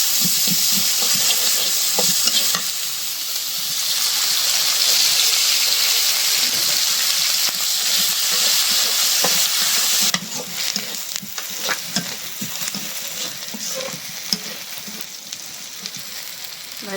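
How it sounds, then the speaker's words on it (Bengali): Sliced onions sizzling in hot oil in a pan for chepa shutki, a loud continuous hiss with frequent stirring scrapes, the frying growing busier and more crackly partway through. "এই যে চাপা শুটকির জন্য পেঁয়াজ ভাইজে নিই।"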